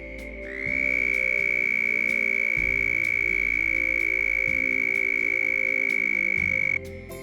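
A toad gives a long, steady, loud trill at close range, one unbroken high whistle-like call holding for several seconds over a faint, low pulsing background chorus.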